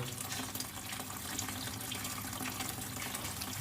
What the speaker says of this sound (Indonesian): Jadi air tetap terus mengalir.